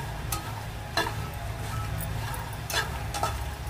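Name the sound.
vermicelli frying in pan on medium flame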